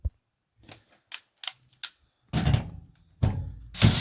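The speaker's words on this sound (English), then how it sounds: "using a 7mm socket, which we'll put on the end of my" A cordless impact driver fitted with a 7mm socket undoes bolts on a Hoover HWB814DN1 washing machine, giving several short separate clicks and taps, then two longer, louder bursts of rattling hammering, close by with no talk.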